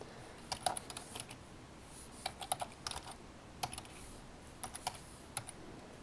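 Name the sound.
typing on a computer keyboard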